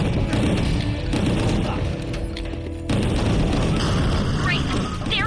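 Gunfire from GunGrave G.O.R.E pounds in dense, booming bursts with heavy impacts and clatter, loud and nearly continuous, briefly easing near the middle before resuming.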